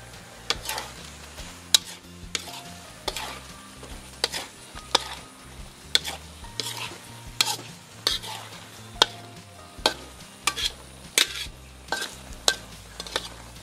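A spatula stirs thickening spicy tteokbokki in a pan, making close, rhythmic scrapes and knocks about once a second over a soft sizzle.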